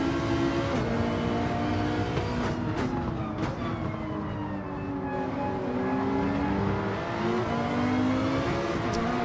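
Race cars, a Ferrari and Porsches, run in close formation on the Daytona Road Course, engines revving loudly and shifting pitch as they pass near, a continuous layered roar without speech.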